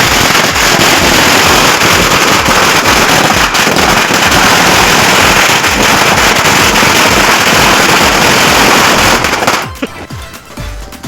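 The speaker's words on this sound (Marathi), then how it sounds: "आता वेळ झाली ती फटाके फोडायची" Firecrackers burst on Lakshmi Puja night in Nashik during Diwali, a loud, dense string of rapid cracks and bangs that goes on for about nine seconds and then gives way to scattered fainter pops.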